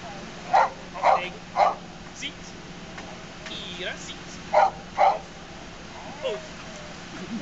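A police dog gives a few sharp barks in bursts, with several more scattered through a quiet outdoor scene, moderately near and fairly distinct.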